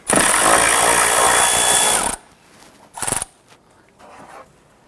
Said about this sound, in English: we have a 10mm bolt. Go to loosen and remove that.